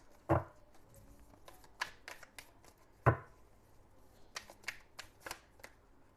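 Tarot cards riffle and snap as a deck is shuffled and handled, with two crisp louder bursts among softer flicks and taps, close up and without talk.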